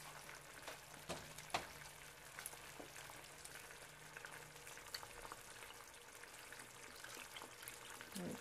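Mexican rice cooking with water in a pan, a soft, steady sizzle and bubbling simmer with occasional faint clicks, close but low in level, with no talking.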